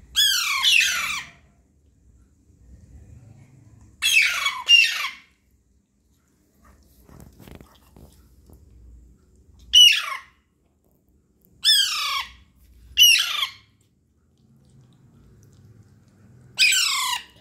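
Pet parrots Mitu and Bitu squawk while eating, sending out loud, harsh bursts of one to two seconds in a scattered, irregular pattern with quiet gaps between, close by and with no talking.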